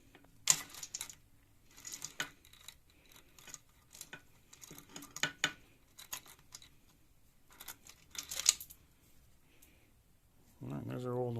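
An old timing chain pulled out of a 2011 Yamaha YZ450F engine gives scattered metallic clicks and light rattling taps in irregular bursts, close up, with a brief voice at the very end.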